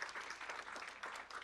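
Audience applause for keynote speaker Dr. Ruth Ryder at an inclusion conference, steady dense clapping from a crowd throughout, moderately faint.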